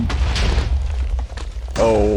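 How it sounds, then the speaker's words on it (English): TNT blows up in Minecraft in the Nether, a low rumbling boom that rolls for a couple of seconds and blends into a second deep blast, then a voice speaks over the fading rumble. "That's some explosions."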